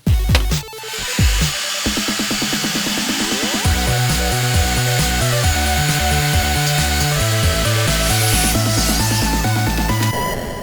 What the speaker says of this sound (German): Ich habe mir den Fräser jetzt auf 12 mm Frästiefe eingestellt und jetzt geht's los